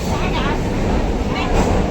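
Inside a moving passenger train carriage, a loud, steady rumble and rattle of the wheels and car fill the space, with people talking over the noise.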